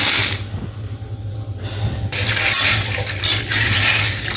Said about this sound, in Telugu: బుడ్డ శనగలను ఇప్పుడు గుడాలు వేద్దామని 2-3 సార్లు మంచిగా కడిగి ఒక 4 గంటల సేపు నానబెడతా.